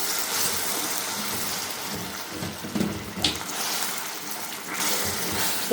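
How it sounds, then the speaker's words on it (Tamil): Water added little by little to caramelizing sugar in a pan for coffee caramel pudding gives a steady, close hiss and bubbling sizzle that swells and fades, with no one talking. "நான் கொஞ்சம் கொஞ்சமா தண்ணி கலந்துக்கிறேன்."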